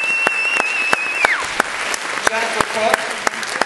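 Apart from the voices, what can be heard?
audience applause for senior band members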